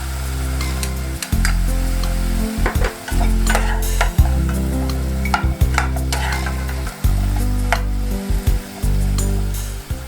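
Onions frying in a pot for a one-pot mushroom spinach pasta, a steady loud sizzle with a low hum beneath, broken repeatedly by scraping stirs of a utensil against the pot.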